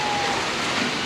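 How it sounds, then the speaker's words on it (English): Heavy rain pours off a house roof, a steady dense rushing wash of water with no break, loud and close. "especially when it's raining real heavy like it is now"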